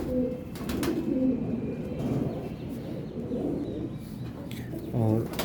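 A Teddy breeder pigeon coos in soft repeated phrases, close by, while someone talks over the calls.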